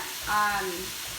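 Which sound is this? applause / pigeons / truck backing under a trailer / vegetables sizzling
vegetables sizzling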